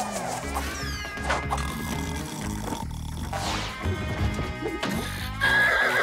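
Cartoon horse, a mare, whinnying repeatedly with clip-clop hoofbeats of galloping, set among busy animated-show sound effects and music.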